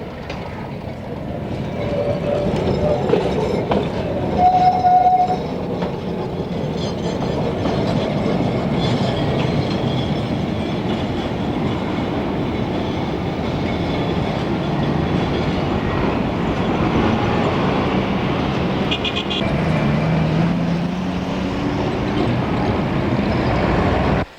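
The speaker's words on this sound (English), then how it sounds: "the trams arriving and departing from their terminal loop outside Howrah Station" A steady rumble of trams rolling along tracks through their terminal loop outside Howrah Station, with clattering wheels and a couple of brief metallic squeals, continuous and fairly loud throughout.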